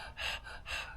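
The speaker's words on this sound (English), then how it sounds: "I'm going to quit breathing heavy if that freaks some people out." Heavy breathing from a man: two loud, breathy inhale-exhale rushes about half a second apart, close to the microphone, with no talk.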